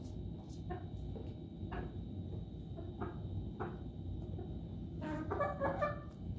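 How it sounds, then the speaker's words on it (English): Soft, scattered clucks and small peeping calls from a few chickens, with a busier cluster of chirps near the end over a steady low background hum. "A few gentle clucks and peeps and trumpet noises."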